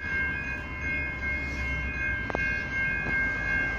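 A broad gauge freight train on the Warrnambool line passes at a distance, a steady rumble with a sustained tonal hum and a couple of faint clanks.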